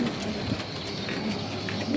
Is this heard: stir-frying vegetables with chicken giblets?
no